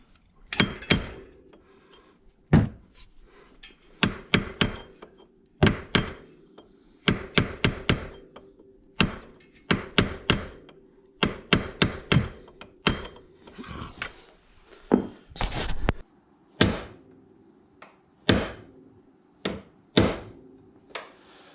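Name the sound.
hammering a part in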